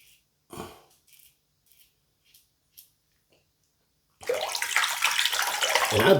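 After a few faint quiet rustles, a tap bursts on and water runs loudly and steadily into a sink as a face is washed after shaving, close and splashing.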